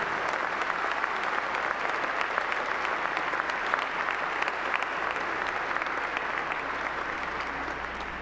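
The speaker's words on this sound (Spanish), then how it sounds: "Les damos un aplauso porque han trabajado muy bien." A congregation at a Catholic Mass breaks into sustained, steady applause, many hands clapping together in a reverberant church, holding an even level throughout with no talk over it.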